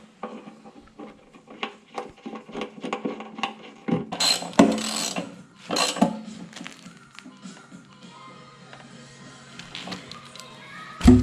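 Bolts go back into a Suzuki GSXR motorcycle during a fuel tank install, with close metallic clinks, ratchet clicks and tool taps in irregular bursts, followed by quieter stretches.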